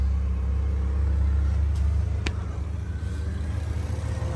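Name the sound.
Honda Civic car engine running with AC on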